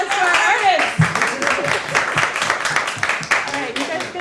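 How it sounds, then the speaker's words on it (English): Audience applause for volunteers and artists at a solarpunk talk, dense clapping throughout with voices talking over it. "Give a round of applause to our wonderful volunteers. And a round of applause to our artists."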